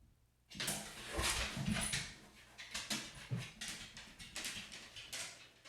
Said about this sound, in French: Mon chien est avec moi dans ma chambre. C'est pour ça que vous venez l'entendre se lever.